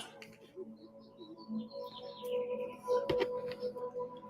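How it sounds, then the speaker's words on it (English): Birds chirping softly in the background, scattered short calls with a few clearer tweets, under a low steady hum. "Listen to the birds."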